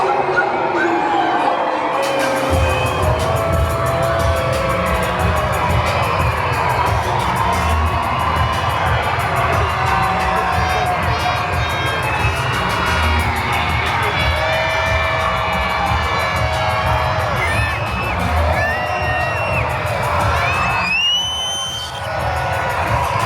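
A large crowd at an Angels baseball game in one of MLB's oldest stadiums cheers loudly and without a break, with shouts and whistles rising over the roar before it drops briefly near the end.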